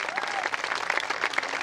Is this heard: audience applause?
yes